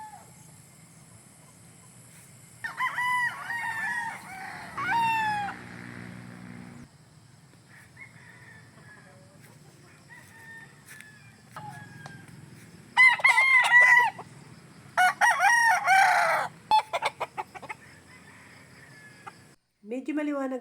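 Game-farm roosters crow several times, loud and near, with chickens clucking in between, over a quiet yard; a voice speaks briefly in places.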